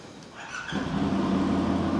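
A CFMoto 400NK motorcycle fitted with a swapped 450SR engine starts on the first try, rising from a brief starter whir into a steady idle nearby.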